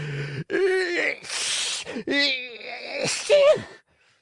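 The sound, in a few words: two loud sneezes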